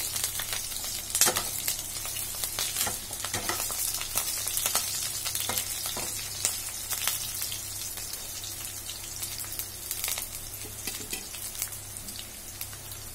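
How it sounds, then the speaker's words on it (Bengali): Potatoes fry in a pan with a constant soft sizzle while a spatula stirs them, making intermittent scrapes and clatters up close, with no voices. "দু মিনিট মতো আমি একটু নেড়ে নেবো আলুটাকে"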